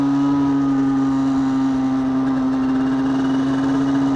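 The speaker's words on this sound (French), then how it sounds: "vous faire écouter un petit peu le bruit du pot d'échappement qui est vraiment beaucoup mieux que le Conti" A motorcycle fitted with a Yasuni R2 exhaust, riding through a tunnel, gives a loud, steady, continuous engine drone with a strong low hum and no pauses.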